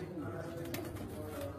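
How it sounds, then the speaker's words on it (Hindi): Golden pigeons, an old peacock-type breed, give a soft low cooing at close range, faint and steady, with someone talking over it. "ये गोल्डन वाला कबूतर है, पुराना मयूर कबूतर"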